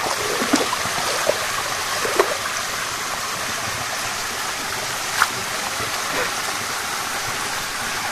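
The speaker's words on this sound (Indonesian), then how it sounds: "Ini kan aliran sungai yang tadi kita seberangin, dan di depannya itu langsung hadap ke air terjun" A river stream rushes near the Tibu Giong waterfall, a loud continuous broadband roar of flowing water with a few faint clicks, close by and without talk.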